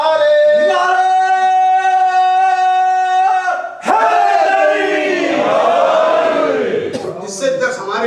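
A crowd at a Muharram majlis gathering shouting religious slogans in unison, a long sustained collective cry followed by a second swelling roar, loud and close.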